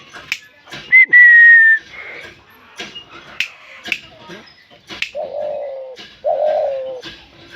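Pigeons coo close by among other birds at a house, loud low coos alternating with sharp whistled chirps and brief calls, with no one speaking.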